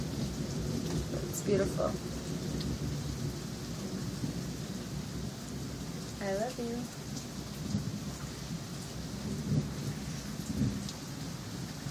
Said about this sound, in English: Storm for a little while.